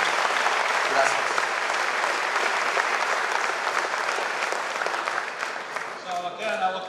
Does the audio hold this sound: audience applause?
yes